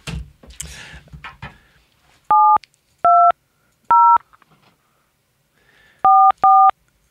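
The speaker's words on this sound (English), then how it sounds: "All this technology, and we're still using push button phones." Push-button telephone keypad tones, five short two-pitch beeps spaced unevenly with a quick final pair, clear and loud after a brief stretch of low rustling at the start.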